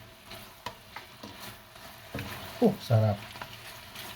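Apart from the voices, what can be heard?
pork tocino and longganisa frying without oil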